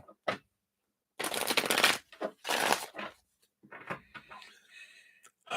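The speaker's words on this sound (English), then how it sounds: "let me shuffle these ones here" Tarot cards being shuffled by hand at close range, with two dense riffling bursts, a few softer card slides and light handling noises, and no talking.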